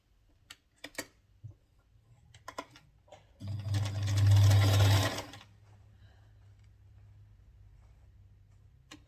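A sewing machine stitches a trouser in one short, loud whirring run of about two seconds, preceded by scattered clicks and light handling taps and followed by a faint steady hum.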